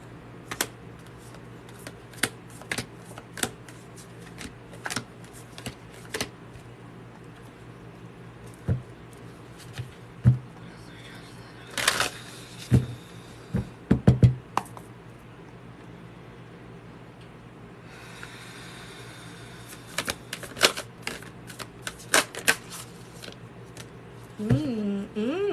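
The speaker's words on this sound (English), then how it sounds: "I'll grab some other decks right now and start shuffling." Repeated soft riffling and slapping of cards, bursts of brisk shuffling with pauses between, close by, with faint background hum and occasional clicks.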